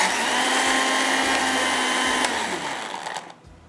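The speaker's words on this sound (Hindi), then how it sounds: "यहाँ पर ब्लेंडर चलाते हैं और इसको हम पीसते हैं" A kitchen blender grinds meat and spices for shami kebab, a loud steady whirring drone that runs for about three seconds before winding down and stopping.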